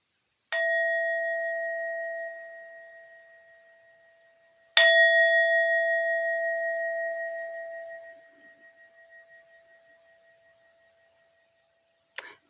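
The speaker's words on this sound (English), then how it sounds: "I'm just going to ding the bell" A bell is dinged twice during a quiet spiritual session, each strike ringing clear and bright before fading slowly over several seconds, with a short faint tap at the very end.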